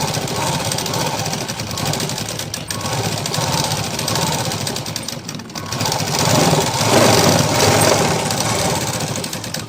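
A sewing machine runs steadily while top-stitching a blouse, a dense continuous mechanical chatter that holds near and loud for the whole span and swells slightly toward the end.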